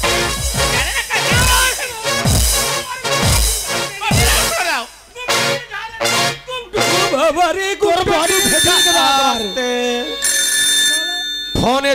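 A phone rings with repeated bright electronic ringtone bursts among lively chatter and overlapping voices in a noisy indoor scene.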